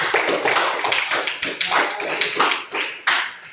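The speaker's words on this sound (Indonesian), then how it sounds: "Tepuk tangan untuk Zikri." A classroom of students claps together in a brisk burst of applause, dense and close, with uneven slaps rising and fading over a few seconds.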